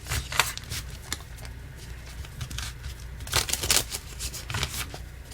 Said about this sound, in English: while I'm shuffling, my left hand hurts